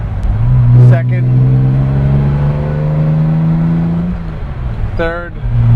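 A 1960 Aston Martin DB4 Series 2 coupe pulls through its gears on an open road, its engine tone rising steadily and then dropping at each shift, heard up close from inside the car with talking over it.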